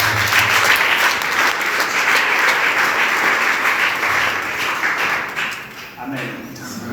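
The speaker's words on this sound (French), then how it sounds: "Acclame le Saint-Esprit." A church congregation at a revival meeting in Rabat, Morocco, applauds in a steady, dense wash of clapping, with voices mixed into the crowd noise that thins slightly near the end.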